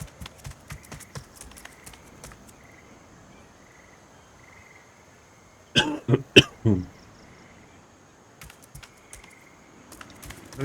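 A short burst of coughing, a few rapid harsh bursts close to the mic, breaks into an otherwise quiet room with faint clicks before and after.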